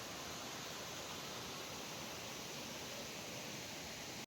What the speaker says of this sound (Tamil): இப்ப நம்ம சின்னதா இங்க இந்த ஒரு குட்டியா ஒரு ஓடை மாரி போது.